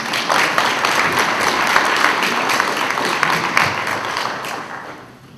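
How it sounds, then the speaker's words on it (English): A board of education audience claps for a kindergarten teacher at a Teacher of the Year awards, with loud, close, sustained applause that fades out near the end. "Clap for Andrew."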